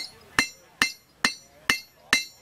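Blacksmith striking a small flat-ended punch on metal with a hammer, five loud, sharp ringing blows at an even, unhurried rhythm, each decaying quickly before the next, with no talk.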